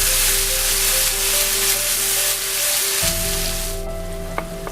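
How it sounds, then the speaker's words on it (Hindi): Onion and tomato frying in a pan for a daal kabab tempering, a loud, close, continuous sizzle with a low hum beneath it, easing slightly near the end. "प्याज हमारा ब्राउन हो गया है। अब मैं इसमें मीडियम टमाटर डालूंगी।"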